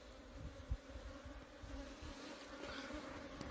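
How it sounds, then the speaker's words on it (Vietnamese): Bees swarm around a honeycomb in a forest, making a steady low buzzing hum throughout, close by, with faint rustling and small knocks and no speech. "Tổ ong nó dính vào đây luôn."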